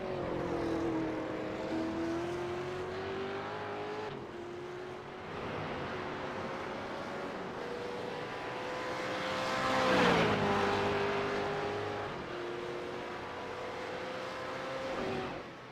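A V8 race car engine at Bathurst in the iRacing game drones steadily with a raspy tone, its pitch climbing and falling through gear changes, loud and continuous with no talk.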